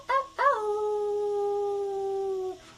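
A person imitates a wolf howl, two short rising yelps followed by one long sustained howl that holds steady and then fades, close and clear with no other sound.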